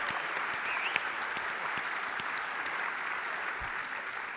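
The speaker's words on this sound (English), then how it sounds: "You're supposed to clap after the defense" An audience claps at a lab event, with steady dense applause running throughout, moderately loud and even, with no voices over it.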